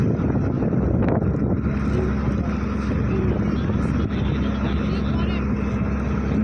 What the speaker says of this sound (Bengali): অনেক পরিমাণের বাঁশ দুটো ট্রলার দিয়ে টেনে টেনে নিয়ে যাচ্ছে